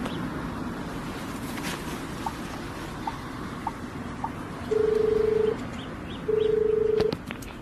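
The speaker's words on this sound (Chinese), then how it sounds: "我去给江雨怡打电话" A telephone call being dialed in a quiet indoor room: two long steady electronic tones, each about a second, come after a few faint soft clicks, with low background hum and no talking.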